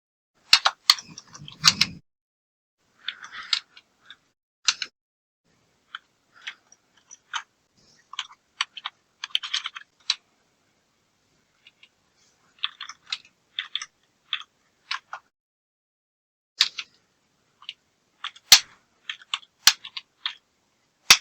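Rapid keystrokes on a computer keyboard while a retail sale is entered using only the keys, heard as irregular bursts of sharp, close clicks with short pauses between them and no talking.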